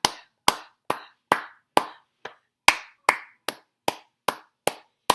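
A steady run of about thirteen crisp claps and pats in a music class rhythm exercise, evenly spaced and close, performed alone without voices.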